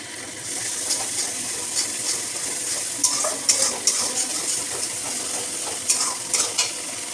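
Chili paste fries in a pan for a simple chicken curry, giving a steady close sizzle broken by scraping stirs and wet spluttering bursts.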